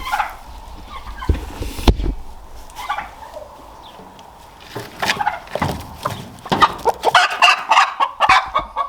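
A hen clucks and squawks in short agitated bursts, close by, with rustling and brief handling noises between the calls.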